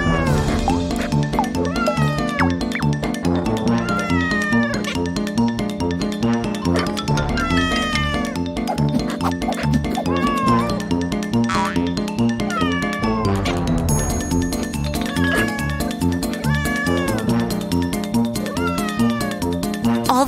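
Kittens meowing over and over in a busy cardboard play setting, high mewing calls repeating loudly throughout, with dense continuous sound underneath and no talking.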